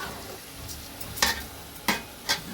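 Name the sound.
frying vegetables in oil for vegetable pulao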